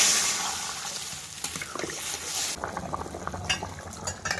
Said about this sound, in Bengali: ভালোভাবে আলু কষানো হয়ে গেছে, এবার জল দিয়ে দেবো।